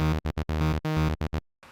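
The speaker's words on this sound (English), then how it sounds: "And I've just dragged in this analog, just the default preset, which sounds like this." The default preset of Ableton's Analog synth for lo-fi house plays short, bright, buzzy staccato notes in quick bursts, a few clipped hits followed by a longer held pair, ending abruptly into near silence.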